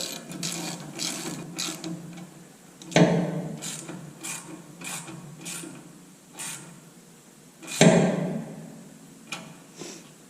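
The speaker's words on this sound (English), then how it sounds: "we're just going to tighten things up" Ratchet wrench tightening bolts during front suspension installation on a 1968 Mustang, with fast clicking runs and two louder, sharper bursts of ratcheting, close and fairly steady, no voices.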